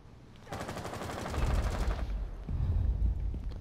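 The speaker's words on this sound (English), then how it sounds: "I'm shooting a hole here." Rapid automatic gunfire in Rainbow Six Siege, a sustained burst of fast repeating shots after a quiet start, pausing briefly before a second burst with heavy low thumps.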